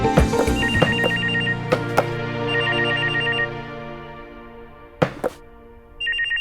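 A telephone bell rings loud and close in repeated bursts with a few thunks between rings, and no one speaks over it.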